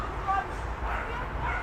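Dogs bark and yip in a home during a live talk show, quick repeated barks at a moderate distance, mixed with people talking over them.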